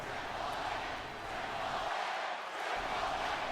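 A dense wrestling-arena crowd in the video game WWE 2K24 roars steadily throughout, a mix of cheering and booing blending into one continuous wall of noise.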